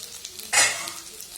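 Potatoes and peas sizzle in a hot pan as they are stirred for a potato curry, a sudden close hiss that swells and then fades over about a second.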